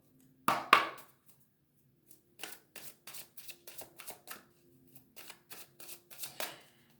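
Tarot cards are handled and drawn, beginning with a couple of crisp card flicks and followed by a quiet run of soft rhythmic shuffling snaps, close and faint.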